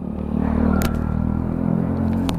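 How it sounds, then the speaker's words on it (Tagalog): A motorcycle runs close by with a steady low engine rumble and clatter lasting a couple of seconds, with a couple of sharp knocks on top and no talking. "Gamit natin yung motor ni Sir Jojo"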